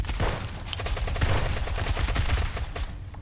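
Rapid bursts of automatic gunfire crackle densely and loudly throughout in a multiplayer shooter video game, with overlapping shots and no talk.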